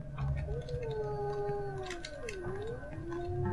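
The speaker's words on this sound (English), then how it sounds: "That sound, seriously sounds like a cat." A cat-like creature in the game Yuppie Psycho lets out a long, wavering howl that bends up and down in pitch, steady and fairly close, with a person speaking over it.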